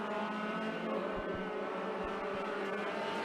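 Midget race cars circle the track during hot laps at Skagit Speedway, their engines a continuous distant drone with occasional low thumps, and no voices over it.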